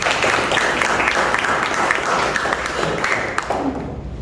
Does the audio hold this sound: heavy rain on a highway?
no